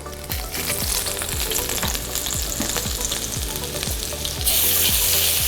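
Minced garlic and bacon sizzle loudly in a hot pan, a steady broadband fry with rhythmic scraping strokes of a utensil, the hiss swelling louder near the end.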